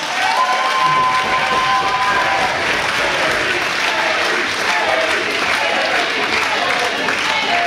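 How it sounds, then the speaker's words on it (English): Audience applause at a professional wrestling event as a wrestler comes to the ring: steady, loud crowd clapping with some cheering, continuous throughout with a voice over the top at the start. "Big round of applause"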